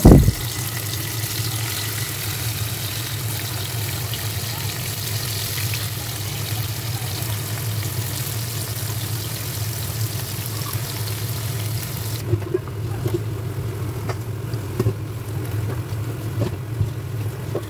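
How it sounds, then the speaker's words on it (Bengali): Paneer pieces frying in about a spoonful of hot oil in a kadai, a steady low sizzle with a constant hum running through, no voices, continuous for the whole stretch. "এখন আমি পনিরগুলো ভেজে নিয়ে নেব।"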